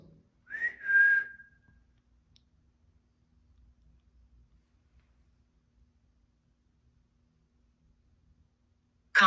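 A person whistles one short rising note and then a longer held note, clear and close in a quiet old county jail, followed by near silence.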